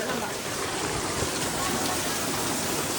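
Steady rain pours down in a continuous broadband hiss, close and even from start to finish, with no pauses or distinct drops standing out.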